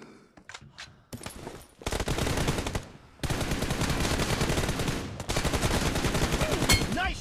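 Gunfire from PUBG Mobile comes in rapid, loud automatic bursts with short gaps between them, opening with a few scattered shots and finishing with a brief voice.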